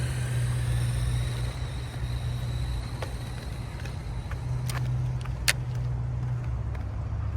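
A Tonka XRC Pro Speed radio-controlled toy car from 1996 drives fast across a rough parking lot, giving a steady loud motor whine throughout with a few brief knocks near the end.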